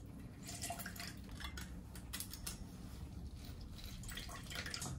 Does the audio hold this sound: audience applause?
no